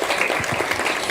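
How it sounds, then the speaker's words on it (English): An audience at a law faculty awards ceremony applauds the awardees, dense continuous clapping from a crowd filling the room without pause. "Please clap them. Clap them, clap them, clap them."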